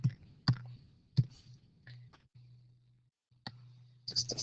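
A pen sketches a right triangle diagram, giving faint, close taps and scratchy clicks at irregular intervals. A low steady hum runs underneath.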